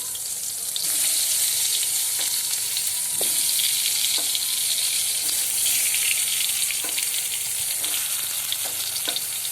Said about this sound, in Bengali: বেগুনগুলি ব্রিঞ্জাল ফ্রাই হওয়ার জন্য সেটি কড়াইতে আস্তে আস্তে একটা একটা করে দিয়ে দেব